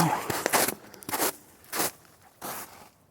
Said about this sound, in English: It's like a raccoon, I think.